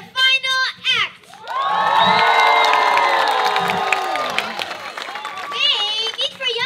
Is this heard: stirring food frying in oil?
no